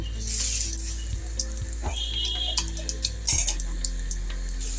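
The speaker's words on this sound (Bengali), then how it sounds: "তেলটা গরম হয়ে গেছে, আমি এবার এর মধ্যে একটু 5 ফোড়ন দেব" Bengali five-spice seeds dropped into hot oil on a gas stove, a soft sizzle with scattered crackling pops and ticks as the seeds fry, close and fairly quiet.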